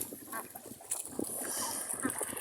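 Domestic ducks and geese paddling and splashing on a farm pond, with scattered quacks, honks and water splashes close by amid a busy, uneven outdoor mix.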